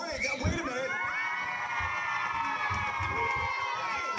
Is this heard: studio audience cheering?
yes